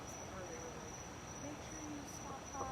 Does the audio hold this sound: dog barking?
no